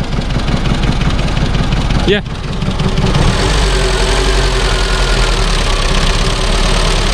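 The engine of a 1991 Dacia 1310 Break idles steadily with a constant low throb and a slight knocking texture. A short whine cuts in early, and a voice speaks briefly nearby.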